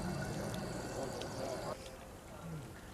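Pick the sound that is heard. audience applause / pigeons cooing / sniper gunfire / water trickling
water trickling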